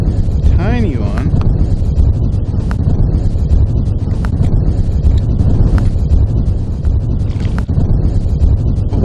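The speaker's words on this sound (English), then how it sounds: "One of the things that's really slowing me down is just this relentless headwind." Strong, relentless headwind buffets the microphone on an Arctic watershed river during a solo canoe trip, a loud continuous rumble with gusty surges and occasional knocks and splashes from paddling.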